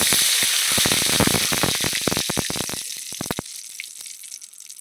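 Mustard oil left over from frying bitter gourd sizzles and crackles loudly in a pan, with a dense stream of sharp pops that thins out and grows quieter toward the end.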